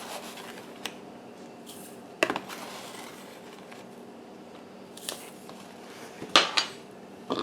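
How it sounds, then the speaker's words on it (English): Sugar and instant potato flakes go into a sourdough potato bread starter, heard as scattered clinks and scrapes of a spoon against a bowl or dish, a few sharper knocks among quiet rubbing, with no voice. "I'm putting my sugar, and I'm putting instant potato flakes, folks."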